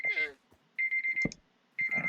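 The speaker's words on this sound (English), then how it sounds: "And there is the alarm." Alarm clock in Minecraft ringing in three bursts of rapid high-pitched beeping separated by short pauses, close and clear, with brief sounds in between.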